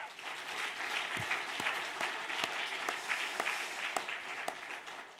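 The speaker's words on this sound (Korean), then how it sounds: "우리 힘찬 격려의 박수 한번 보내겠습니다" Church congregation applauding, a dense wash of many hands clapping at moderate distance, steady for several seconds with a few sharper individual claps standing out, no talk over it.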